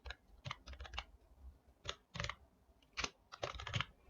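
Typing on a computer keyboard while entering a name into an online income certificate form: several quick bursts of clicking keystrokes separated by short pauses, close and clear, with no talking.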